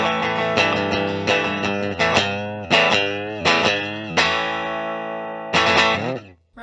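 A 2019 Fender Rariti electric guitar runs through an amp with distortion, striking strummed chords that ring out and sustain between hits, loud and alone.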